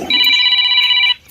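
A phone rings with a single loud, steady electronic tone lasting about a second, close and clear, then cuts off.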